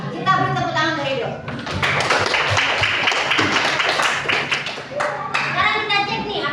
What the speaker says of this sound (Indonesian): Kita beri tepuk tangan dari Rido.